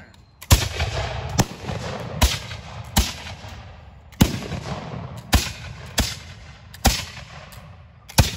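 Black-powder musket volley from historical reenactors at a Revolutionary War battle site living history event: about nine loud, sharp reports fired one after another in an uneven ripple, each with a rumbling tail, no talking.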